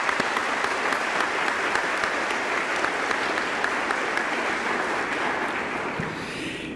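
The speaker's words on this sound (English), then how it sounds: "A round of applause," Sustained audience applause at a 2021 Norristown Area High School commencement ceremony, steady and full throughout, fading slightly at the end.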